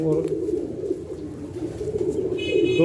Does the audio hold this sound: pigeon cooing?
yes